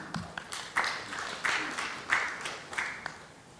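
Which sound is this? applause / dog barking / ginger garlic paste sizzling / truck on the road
applause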